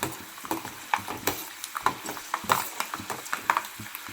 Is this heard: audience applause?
no